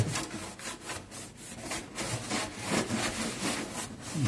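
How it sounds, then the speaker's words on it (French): An oven being scrubbed with cleaner, a rhythmic back-and-forth rubbing that repeats steadily up close, gritty and fairly loud, with no talk over it. "On frotte un peu plus."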